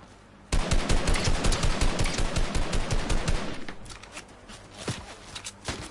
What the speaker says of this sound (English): I'm getting shot by another team now.